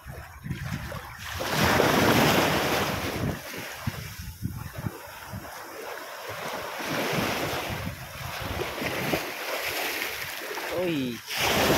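Heavy surf crashes repeatedly, loud and close, with gusty wind buffeting the microphone throughout.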